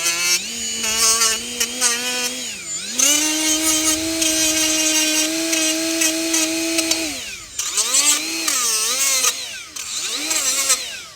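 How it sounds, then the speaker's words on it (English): Power tool scrubbing rust off the rear brake caliper of a 2019 Honda Civic 2.0, a whirring motor whose pitch sags under load and rises again as it is eased off, running in several bursts. "Want to make sure you clean as much of the rust as possible."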